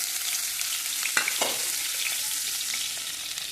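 Oil hits roasted onion in a hot wok and sizzles loudly with a dense, continuous crackle, broken by a couple of brief scraping stirs near the middle.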